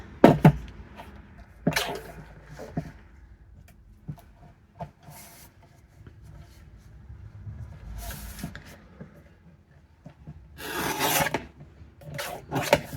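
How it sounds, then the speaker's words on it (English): Paper trimmed while making an angled-pocket envelope, heard as a few close, brief rasping cuts and scrapes spread across a quiet tabletop with pauses between strokes. "I'm going to trim that before I put some glue underneath."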